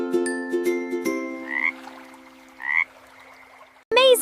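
Frog croaking in a series of repeated calls, a quick run of sharp croaks followed by two longer trills, with a bright chime-like sound at the end.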